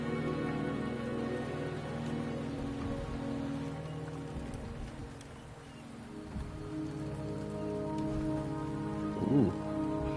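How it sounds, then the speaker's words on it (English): Steady rain falls in the video game Wuthering Waves, a dense, even patter on surfaces that continues throughout without speech. "The rain is subsiding, and the sky will soon clear."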